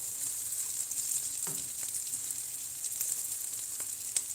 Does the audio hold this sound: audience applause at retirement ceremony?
no